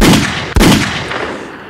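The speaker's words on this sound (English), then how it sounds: "Let me hit a gunshot." A gunshot sound effect played on a podcast: two loud, booming blasts a split second apart, each with a long rumbling decay, standing alone without talk.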